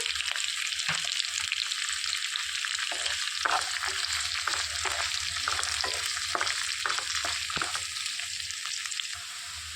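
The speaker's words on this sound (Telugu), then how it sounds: "సన్నగా కట్ చేసి పెట్టుకున్న ఉల్లిపాయ కూడా వేసుకొని వేయించుకోవాలి" Thinly sliced onions frying in a pan for a snake gourd curry, with a steady bright sizzle and repeated soft knocks and scrapes of a stirring spoon, fairly close and without talk.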